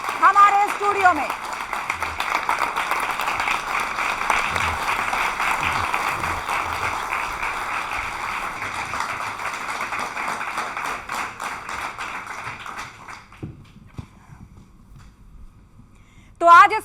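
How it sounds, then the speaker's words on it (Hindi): Studio audience applause at a televised Hindi talk-show gathering, a sustained dense clapping that runs loud for several seconds, then fades out abruptly, followed by brief quiet and a short resumed burst. "जोरदार तालियों के साथ बहुत बहुत स्वागत है आपका हमारे स्टूडियो में।"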